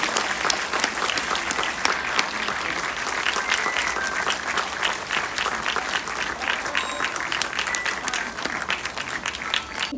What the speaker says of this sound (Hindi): जोरदार तालियां दे रहे हैं सज्जनों।